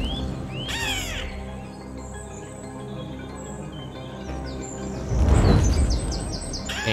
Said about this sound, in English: A seagull approaches.